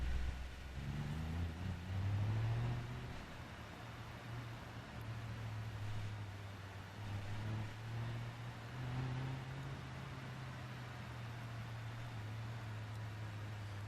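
Car engine in the BeamNG.Drive driving simulator, heading to a warehouse pit area at a demolition derby event: a steady mid-pitched hum with gentle rises and falls in revs, fairly quiet against a noisy background.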